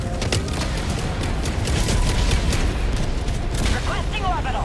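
Orbital barrage volleys in Helldivers 2 go off as a steady stream of heavy booms and crackling blasts, loud and continuous, with a voice shouting briefly near the end.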